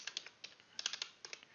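Quick, light clicks of a computer keyboard in irregular bursts of several keystrokes, close and fairly quiet, with short pauses between groups.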